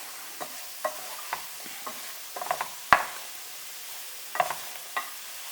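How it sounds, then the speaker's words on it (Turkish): Lightly fried potatoes are stirred with flour in a pan, with a soft, steady sizzle under a series of quiet spoon clicks and scrapes, one louder knock near the middle. "Hafiften kızarmış olan patateslerimi unla beraber bir dakika kavuruyorum."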